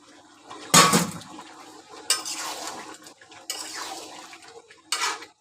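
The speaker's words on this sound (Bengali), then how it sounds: "চিচিঙ্গার আলুটা এখন দিয়ে কষাবো ভালো করে" Potato and ridge gourd stir-fried in a pot while cooking beef, with bursts of spoon scraping and clattering against the metal at intervals, separated by quieter stretches of low sizzle.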